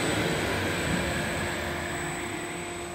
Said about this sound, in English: Yeah, that pilot pump's still running.